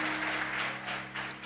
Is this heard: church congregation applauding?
yes